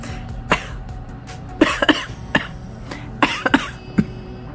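A woman coughs from allergies in a series of sharp, close coughs, some in quick pairs and clusters, with a little throat clearing between them and no talking.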